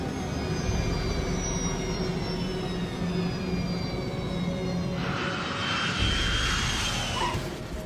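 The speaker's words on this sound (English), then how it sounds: "The plane touches down at 7:32 a.m." Airliner touching down on landing with engines reducing thrust, a steady loud jet roar with whining tones, a broadband rush swelling near the end as the aircraft settles onto the runway.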